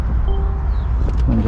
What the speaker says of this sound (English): Very fast operating soft top convertible. There it goes.